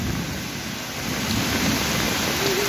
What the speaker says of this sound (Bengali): আমাদের এলাকায় অনেক বৃষ্টি পড়ছে, কঠিন বৃষ্টি হচ্ছে।